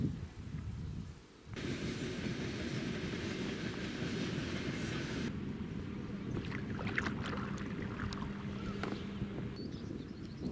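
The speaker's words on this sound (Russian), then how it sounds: "И вот я здесь, на Сылве, и смотрю уже с нее на проходящие мимо поезда." A train passing by alongside the Sylva river, heard from the water: a heavy continuous rumble and rolling rail noise that suddenly swells after a quiet moment, with faint clicks and squeals later, moderately distant.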